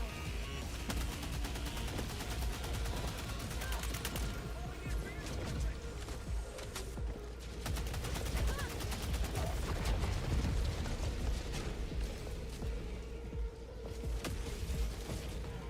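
Dense, continuous gunfire from a Helldivers 2 battle, rapid overlapping shots rattling on without pause under steady game ambience, with talk mixed in.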